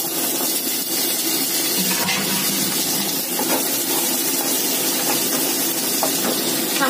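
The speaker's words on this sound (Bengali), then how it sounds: "একটু ভেজে নেব।" Cut potatoes sizzle in hot oil in a home kitchen, giving a loud, close, steady crackling hiss that runs unbroken.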